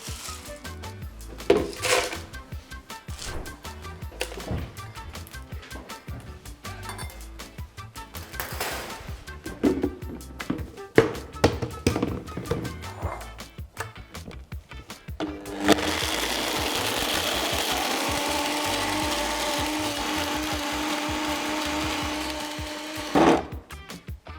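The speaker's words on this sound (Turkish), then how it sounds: "bunları blend tekime alacağım ve bunları toz haline gelene kadar karıştıracağım" Dried strawberries being ground to powder in a blender: first a series of short rattling pulses and clatter, then a steady loud whirring run that cuts off near the end.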